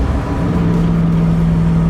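A 1965 Mustang Fastback GT350 tribute with a 289 V8 and 4-speed drives past in a steady, loud, close drone, its low engine note holding a constant pitch with no talk over it.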